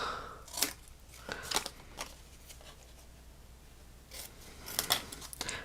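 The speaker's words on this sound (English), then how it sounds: "let me get my fussy cutting scissors. I'm going to just cut this top part off." Small fussy-cutting craft scissors snip through paper in a handful of quick crisp cuts spread unevenly across the moment, close and fairly quiet, with soft paper rustling between snips and no talking.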